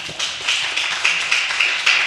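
A small audience at a startup pitch event claps for a founder after her pitch, a short run of close, distinct hand claps from a handful of people, steady and crisp.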